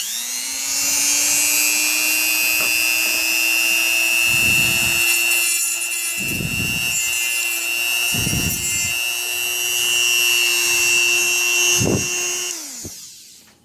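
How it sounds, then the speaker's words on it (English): A Dremel rotary tool with a cutting disc slices open a plastic toy train case, a steady high whine with several rougher grinding bursts as the disc bites, ending as the tool winds down. "So I got my good old Dremel. Hopefully this disc will cut through."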